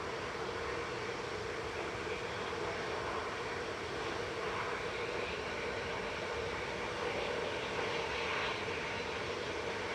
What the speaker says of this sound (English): This is EasyJet's GEZTB in A320 Classic. Pair of CFM 56s on these.